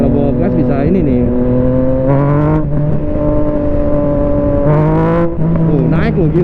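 A light, roughly 200 kg, 115 HP motorcycle accelerates hard, its engine rising in pitch through several rising sweeps and gear changes, loud and close, drowning out most other sound.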